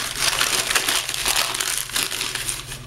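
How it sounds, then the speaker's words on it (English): Packing paper is crumpled by hand at close range, a loud, continuous crackling and crinkling with irregular bursts of rustle throughout. "But I simply crumpled the paper"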